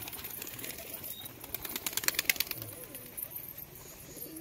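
Pigeons stir as they are lifted out of a cage at a seller's loft, with soft coos and a burst of fluttering wing flaps in the middle, over a steady background hiss.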